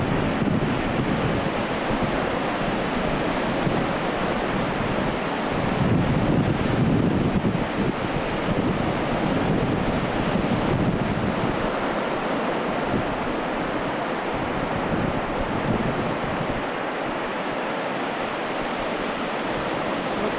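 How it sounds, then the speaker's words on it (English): Rough ocean surf and strong wind fill the air with a constant loud roar, waves surging and breaking in slow swells while gusts buffet the microphone, with no voices. "Wow, the waves are crazy out there today."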